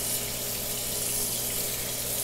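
Tap water running steadily into a sink while rabbit feet are rinsed, a continuous near splashing hiss with no voices.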